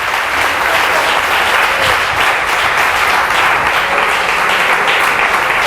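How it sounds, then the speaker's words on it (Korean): A congregation at a church gathering in Havana, Cuba bursts into loud, sustained applause, a thick, uniform roar of clapping from many hands close by. "aplauso de gloria a Dios"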